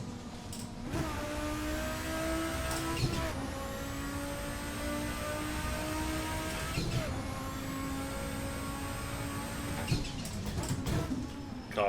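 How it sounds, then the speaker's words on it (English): An Audi Quattro race car in the Assetto Corsa racing game is driven hard around a lap, its engine revving up repeatedly with whining gear changes, accompanied by brief squeals and thumps between pulls. "Car squirms a little bit on the brakes there."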